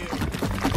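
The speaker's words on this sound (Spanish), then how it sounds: "es el momento de llenar el café con el agua hirviendo" Boiling water poured from a kettle onto ground coffee, a short soft splashing pour with a faint liquid gurgle, heard alone and close.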